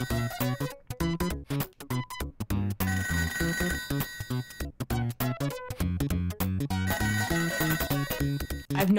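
Telephone ringing in the video game Toejam & Earl, a rapid, trilling electronic ring mixed into dense, rhythmic game music, with bright repeated pulses running loud and continuous throughout.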